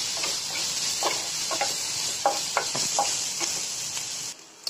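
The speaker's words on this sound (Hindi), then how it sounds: "हमारा ये भून रहा है।" Asafoetida and vegetables frying in a hot pan, a steady close sizzle broken by several sharp scrapes and clinks of stirring, fading out at the end.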